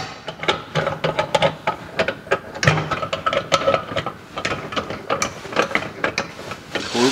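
Metal lid of a pressure cooker being closed and locked, giving a run of sharp, close clicks, rattles and clanks in an irregular rhythm, with no talking.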